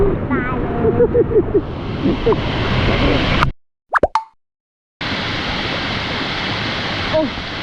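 Erawan Waterfall rushes as a steady, full broadband roar of water close by. People talk over it at first, then the water cuts out briefly and returns just as strong.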